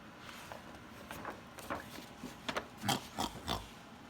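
A pig grunts and oinks in a series of short, snorty calls, growing louder and more frequent toward the end, with no talking.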